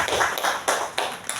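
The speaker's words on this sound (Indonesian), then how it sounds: "sebelumnya kita beri tepuk tangan dulu buat Pak Handi" An online teachers' group session breaks into brief applause for a colleague, a few quick, light claps with a sharp tapping quality over a short stretch.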